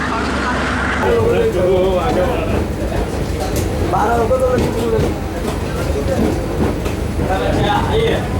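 DEMU express train 11415, running from Solapur to Hosapete, rolls into Hubballi railway station in the rain, with a steady carriage rumble and rattle heard from onboard under nearby voices.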